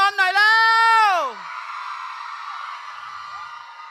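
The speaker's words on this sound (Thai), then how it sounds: "ขอเสียงแฟนคลับนนทนนท์หน่อย" Fans cheering at a kids' fashion show: one loud, piercing whoop rises and then slides down, followed by a steadier wash of crowd shouting and cheering that carries on at a lower level.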